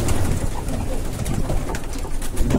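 Pigeons coo steadily in a pigeon loft, a dense layered murmur of several birds close by with soft rustling underneath.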